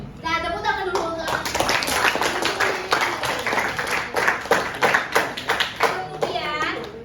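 Schoolchildren in a classroom clap their hands together, a dense, rapid patter of many small hands, close and lively, with children's voices chattering throughout.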